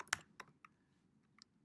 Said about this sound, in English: So now if I type this in, I hit the enter key